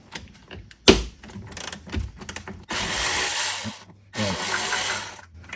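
A ratchet fitted with a T40 bit removing bolts from a door hinge on the B pillar of a 2017 Toyota Corolla iM, a sharp tool knock followed by bursts of rapid ratcheting clicks and two sustained mechanical whirring runs, close and fairly loud.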